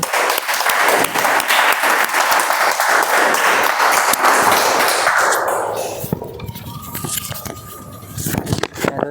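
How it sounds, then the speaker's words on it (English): An audience at a Toastmasters meeting claps to welcome a speaker, dense loud applause for about six seconds that then thins out into scattered claps and room noise. "let's welcome with huge round of applause Toastmaster Krishna"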